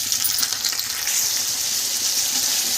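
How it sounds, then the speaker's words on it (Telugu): Onion and tomato fry in a pan for a drumstick and potato curry, giving a steady, close, bright sizzle throughout with faint stirring and no voices. "మీడియంకి వేగినప్పుడే టమాటీ కూడా వేసి బాగా వేపుకోవాలి."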